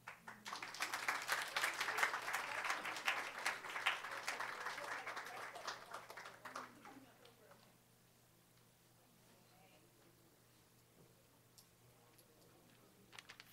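Audience at a community speaking event breaks into applause after a speaker, a dense burst of clapping that holds for several seconds then fades out, leaving a quiet room with faint murmuring.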